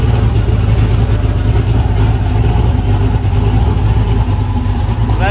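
A turbocharged Honda N600 engine runs on a dyno, loud and close, with a rough, throbbing idle and light revving that stays constant through the whole stretch.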